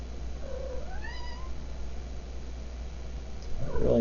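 A house cat meows over a steady low hum, with a rising, drawn-out mew early on and a sharper, louder cry near the end, both close to the microphone.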